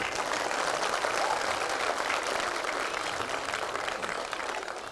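Audience clapping to welcome a guest at an evening Diwali gathering with soldiers at the border: dense, steady applause from a crowd, continuous and fairly loud throughout with no voices over it.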